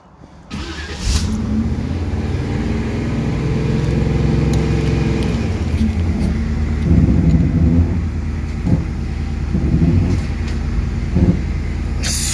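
A third-generation car engine, just after a fuel pump replacement, starts and runs steadily while the car is eased backward off a trailer. The loud, continuous motor note swells slightly at times.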